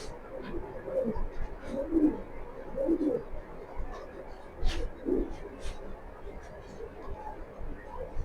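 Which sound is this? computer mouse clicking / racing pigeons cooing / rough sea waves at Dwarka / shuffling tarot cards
racing pigeons cooing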